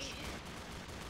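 Gunfire in the Roblox game Zombie Rush, a brief dense burst of rapid shots blending into a steady, noisy wash that stays fairly faint throughout.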